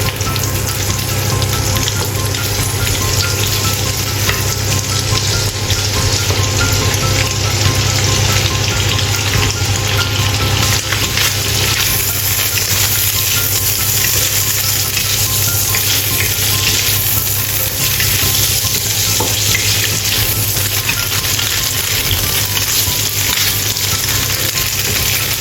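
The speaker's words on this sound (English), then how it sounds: "Fry dried tofu until golden brown." Dried tofu frying in a pan of hot oil, a loud, dense, steady sizzle and crackle that continues close and unbroken, with no voices.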